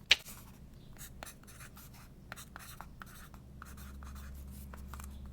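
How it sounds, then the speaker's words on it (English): A pen scratching out a note on a piece of paper, a run of short irregular strokes close up and quiet over a low steady hum, with no talking. "I'm gonna just be writing my note here on this piece of paper"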